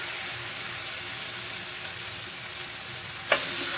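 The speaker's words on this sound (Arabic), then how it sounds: "خلاص بعد ما الزيت سخن هبدا اضيف اللحم" Beef fillet steak sizzles steadily in hot oil in a pan, a constant broadband frying hiss with a brief sharp crackle burst near the end.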